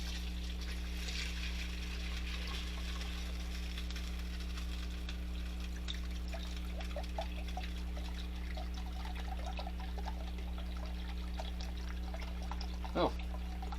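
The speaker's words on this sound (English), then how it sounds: "So we are going to pour that in" Chicken broth from a carton pours into a large soup pot for cheese and potato soup, a soft steady trickle and splash under a constant low hum, with a brief clunk near the end.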